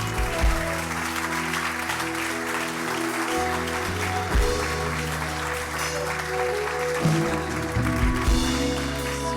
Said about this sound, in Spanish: Dele fuerte ese aplauso a nuestro Dios.